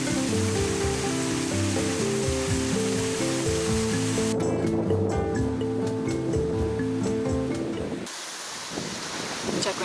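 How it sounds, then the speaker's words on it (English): A waterfall and a river pour out toward the ocean on the Oregon coast, making a steady, full rush of flowing water heard close, with some wind buffeting near the end. "Beautiful waterfall"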